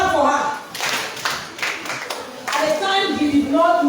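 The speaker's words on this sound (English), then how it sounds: "Clap for her." Children at a kids' club celebration break into brief bursts of hand clapping, uneven and fairly close, while voices talk over and around the claps.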